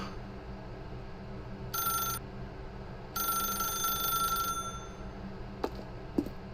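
An electronic telephone rings in The Stanley Parable: Ultra Deluxe, sounding in two bursts, a short one and then a longer one, over a steady low background hum. No one speaks.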